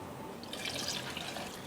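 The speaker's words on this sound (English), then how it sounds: "I'm going to add in the rest of the water" Water pours into a pot of boiling rasam, a soft continuous splashing and trickling that stays fairly quiet throughout.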